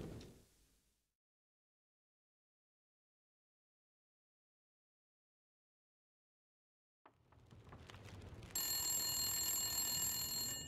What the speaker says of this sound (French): Répondez au téléphone.